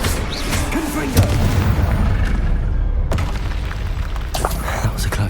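The Confringo explosive spell bursts in Hogwarts Legacy amid a dense, loud wash of rumbling booms and game effects, with a sharp blast near the middle over continuous battle noise.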